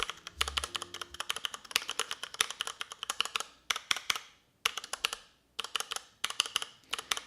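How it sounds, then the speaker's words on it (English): Typing on a mechanical keyboard with Cherry MX Brown switches in a home office, close rapid clicky keystrokes in bursts with short pauses, no talking. "I think they're Cherry MX Brown keys if you're into the mechanical keyboards at all"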